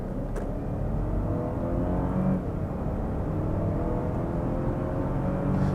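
A Lexus LX 700h hybrid SUV accelerates hard, a dense low engine roar and road rumble that holds steady and loud throughout, heard from inside the cabin.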